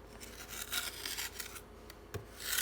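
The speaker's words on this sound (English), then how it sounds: "now I'm gonna make like a little pocket along by putting the mortar along the sides here." Mortar being spread and pressed along the sides of a base during a home repair, quiet gritty scraping and rubbing strokes in an irregular rhythm, close to the microphone, with no talking.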